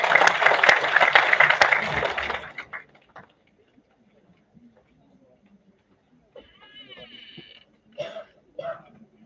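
At a national seminar, a room applauds in a burst of dense clapping lasting a couple of seconds. It fades to silence, and a few faint noises and brief voices follow.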